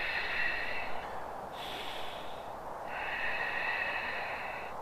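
Steady, audible breaths in and out through the nose during a yoga Warrior pose, close and continuous with no talking.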